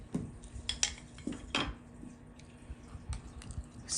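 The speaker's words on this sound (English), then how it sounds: "Stir it all up." A utensil stirs a homemade jalapeño lime vinegar mixture in a container, making a few close clinks and scrapes against the sides with quiet wet swishing between them.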